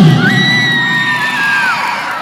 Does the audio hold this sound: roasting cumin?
no